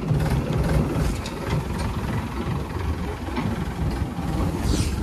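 Farm tractor engine idling, a steady low chugging rumble with a knocking pulse that runs continuously at moderate loudness, no voices present.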